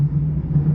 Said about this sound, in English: Maybe you can hear the sound of the wheels as they go around a slight curve.